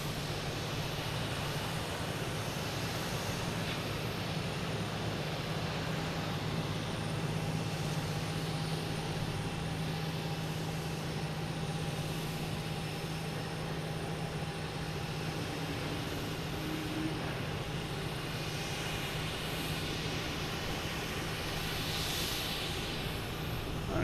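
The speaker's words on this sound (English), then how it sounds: "Next to arrive is a JetBlue coming in from Raleigh-Durham, an A321neo" A JetBlue Airbus A321neo arriving at Boston Logan from Raleigh-Durham, its engines giving a steady broad roar with a faint whine, heard from a distance and holding even throughout, with no voices.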